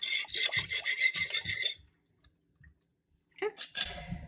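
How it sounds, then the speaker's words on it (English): Two ingredients for cinnamon raisin bread are stirred together in a bowl, making close rasping, scraping strokes in a quick rhythm. The stirring stops for a short silent pause, then starts again. "Now I'm going to stir these two together."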